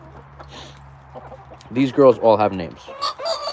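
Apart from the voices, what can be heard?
chickens clucking in a farm flock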